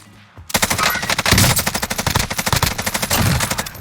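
A Bruin light machine gun in Call of Duty Warzone fires one sustained automatic burst of rapid, evenly spaced shots, loud and close, starting sharply after a short quiet moment, with no talking.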